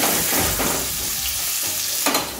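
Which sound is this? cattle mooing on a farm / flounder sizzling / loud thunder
flounder sizzling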